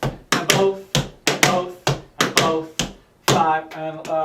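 Tap shoes striking a hard floor in a steady rhythmic pattern of heel drops, stamps and a clap, crisp and close, repeating in regular phrases while a voice counts along with the steps.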